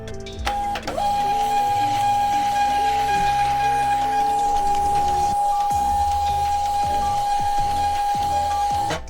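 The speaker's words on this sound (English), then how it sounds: "I'll just keep printing it out until I have like a nice roll" A sticker printer runs continuously, feeding out a roll of stickers with a steady loud whine and mechanical rattling throughout, after a brief start-up click.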